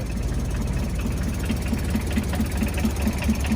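A car engine idling just after a cold start at minus ten degrees, a steady low rumble with an even rhythmic knock pulsing throughout, close and loud with no talk.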